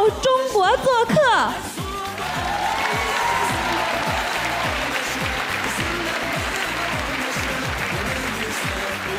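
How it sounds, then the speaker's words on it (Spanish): After a Beijing Dance Academy performance at Teatro Nescafé de las Artes, an audience breaks into warm, sustained applause that fills the hall for several seconds, following a brief stretch of amplified talk. "con este ritmo tan alegre y con el caluroso aplauso que hemos dado"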